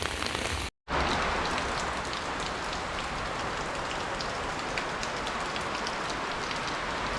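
Steady, dense rain pours onto surfaces on a rainy day in Guyana, a constant hiss broken only by a split-second dropout near the start, with no voices.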